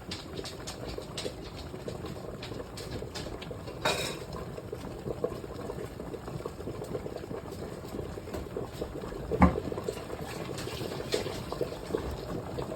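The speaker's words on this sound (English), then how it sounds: "Sorry about that, lost my knife there for a second." A kitchen knife dropped while making cabbage rolls clatters briefly against the counter, a quick, faint metallic knock over low background hiss.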